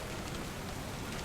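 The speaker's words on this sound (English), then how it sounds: "This night, it was raining outside. Not too heavily" Light rain falls outside at night, a faint, steady patter with no other sounds standing out.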